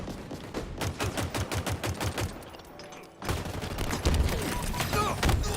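Rapid gunfire and heavy blasts from a Halo Infinite match, grenades going off amid a dense rattling firefight that briefly dips before loud, close explosions and shooting resume.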